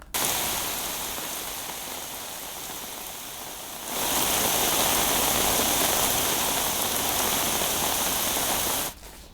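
Heavy rain pours down steadily in Chikkamagaluru, a dense, loud hiss that swells even stronger partway through before cutting off abruptly, with no voices over it.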